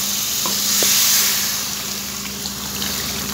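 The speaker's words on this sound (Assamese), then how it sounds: "মোৰ মছলাখিনি সম্পূৰ্ণ ভাজা হৈ গৈছে" Masala spice paste for fish curry frying in a pan, a steady bright sizzle and crackle with a brief swell near the start, close and continuous with no talking.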